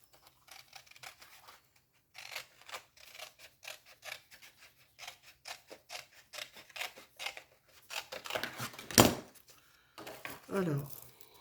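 Scissors snip through a strip of material for a rustic wedding basket craft, a run of short crisp cuts near and fairly quiet, with a louder rustle and scrape toward the end.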